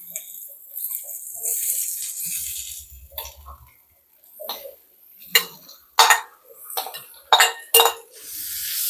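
A utensil scrapes and clinks against a pan while Kanangathai fish puttu mixture with ginger-garlic paste is stirred, giving irregular sharp taps and scrapes with quieter gaps between them.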